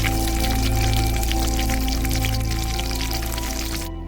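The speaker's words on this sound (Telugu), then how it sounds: "మూకిట్లో ఆయిల్ పోసి పచ్చిమిర్చి వేసి వేయించుకోవాలి" Oil is poured into a kadai and green chillies fry in it, giving a steady, dense sizzle and crackle close by that fades near the end. No one speaks.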